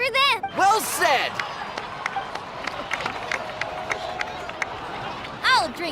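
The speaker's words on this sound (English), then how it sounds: "So, please give another round of applause for them." Crowd applause and cheering in the Genshin Impact video game, steady clapping filling the scene with voices talking over it at the start and end.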